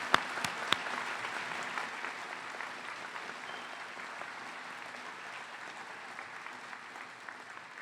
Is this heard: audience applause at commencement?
yes